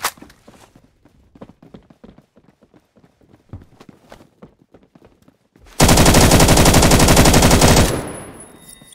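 An LMG in the Roblox shooter Phantom Forces fires a loud, sustained burst of rapid automatic gunfire for about two seconds, then tails off. Light rhythmic footsteps and small clicks come before the burst.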